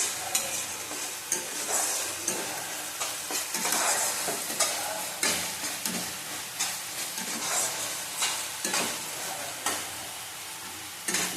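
Spiced masala for a katla fish curry sizzles and fries in hot oil in a pan while a spoon scrapes and stirs it in irregular strokes, a continuous close crackle with no voices.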